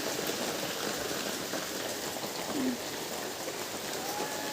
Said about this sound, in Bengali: দেখো গাইস কীরকম বৃষ্টি হচ্ছে।